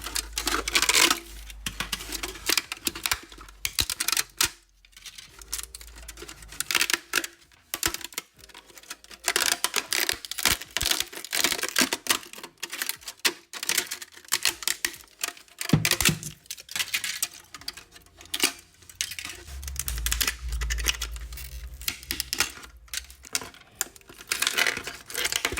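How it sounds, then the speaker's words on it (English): Plastic 3D-printed supports are snapped and peeled off a printed helmet, a close run of sharp irregular cracks, crinkles and clicks with short pauses and occasional low handling thumps. "now I know some of you love to hear the supports come off"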